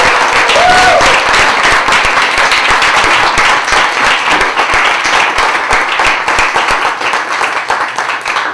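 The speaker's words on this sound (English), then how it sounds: "I hope you will give a round of applause to our" A theater audience at a New York poetry reading applauds the poets, dense and loud clapping that holds steady for several seconds, with a faint voice briefly audible near the start.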